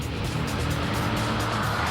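A race car in Gran Turismo 4 drives a lap with a loud, steady engine roar held at high revs throughout, close and continuous with no voices.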